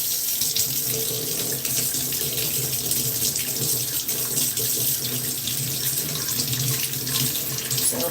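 A kitchen sink tap runs steadily while a greasy pan is rinsed under it, a close, constant splashing rush of water with no talk.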